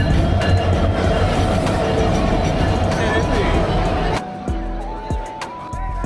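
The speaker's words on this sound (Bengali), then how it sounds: "আমাদের ট্রেনটি স্টেশনের প্ল্যাটফর্মে ইতিমধ্যেই চলে এসেছে।" Paryatak Express at the airport railway station platform, bound for Cox's Bazar, with a loud steady rumble of rail cars and wheels that drops off after a few seconds, leaving quieter station noise and brief tones.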